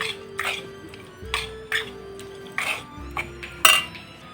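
Crushed peanuts are mixed into potatoes in a bowl, giving a series of irregular scraping and clinking strikes of a utensil against the bowl, close and moderately loud, with no talk.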